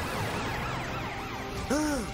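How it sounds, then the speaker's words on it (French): A cartoon fire truck siren warbles over a steady background, rising and falling repeatedly, followed by a short bright tone near the end. "Super! Tes sirènes fonctionnent à nouveau."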